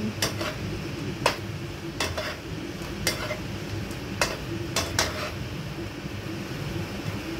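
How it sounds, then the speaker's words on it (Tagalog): Prawns being stirred in a pan of thickening, sticky sauce give a steady low simmering bubble, broken by several sharp scrapes and clinks of a utensil against the pan. "Haluin na natin."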